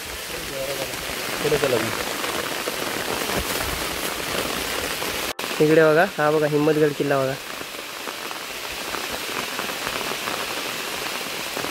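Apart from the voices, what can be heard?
rain falling in a forest near a fort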